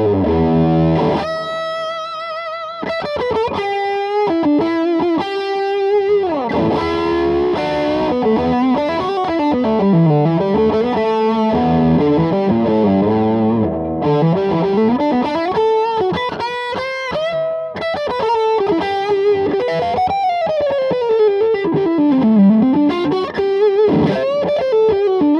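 An electric guitar plays a sustained, bending lead line through a Valvette Custom Drive overdrive with a TC Electronic Nova Repeater delay, loud and continuous with trailing echoes behind the notes.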